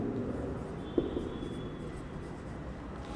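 Chalk or marker writing on a board in a physics class, faint continuous scratching with one small tap, quiet room tone, no speech.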